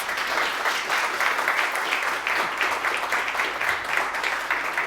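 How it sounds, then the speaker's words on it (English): Warm, steady applause from a conference audience after an enterprise AI presentation, a continuous wash of many hands clapping at moderate distance with no voices over it. "And a warm applause."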